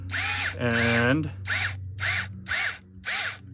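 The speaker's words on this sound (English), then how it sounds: "easily drill through there" A power drill with a bit boring through an RC tire hub, running in about six short bursts that rev up and wind down in turn, close and loud, with a brief spoken word.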